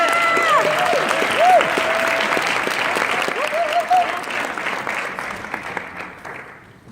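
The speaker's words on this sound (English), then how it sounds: "Let's give them a round of applause." An audience at a network marketing event claps in a sustained round of applause that fades out toward the end, with a few whoops and voices in the crowd.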